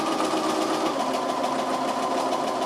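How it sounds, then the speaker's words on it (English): A domestic sewing machine back stitching fabric for a reusable shopping bag, a steady close whirring hum with fast rhythmic needle pulses, running alone without talk. "Start and do a little back stitch just to hold that in place."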